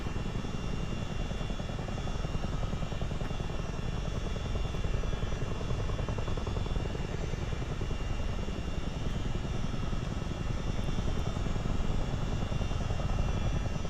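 A CH-47D Chinook twin-rotor helicopter in a multiplayer flight-simulator game cruises along a Great Lakes route, giving a continuous, even rotor and turbine drone that stays steady and full throughout with no speech.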